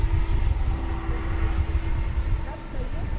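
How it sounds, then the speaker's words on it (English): Qantas Boeing 787 Dreamliner airliner at DFW Airport at night, a steady distant engine roar with a sustained whine, heard continuously with talk over it. "Now here's something everybody likes to see, the Qantas Dreamliner"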